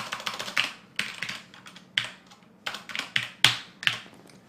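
Fingers type fast on a computer keyboard up close, in crisp clicking bursts broken by brief pauses, with no talk.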